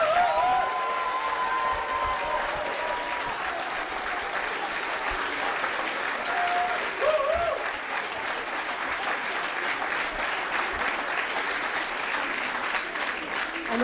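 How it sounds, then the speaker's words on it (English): A school show audience applauds the cast with steady, sustained clapping for about fourteen seconds, with scattered voices and a few brief cheers or whoops in the crowd. "I think they deserve another round of applause"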